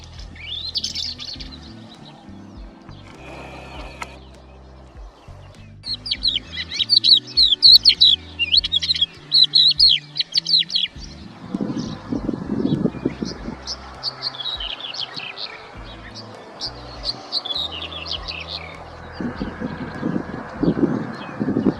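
Birds chirping at dawn by Lake Baskunchak, a salt lake, with repeated bursts of high twittering song, some near and clear, over a quiet backdrop and occasional low rumbling noise.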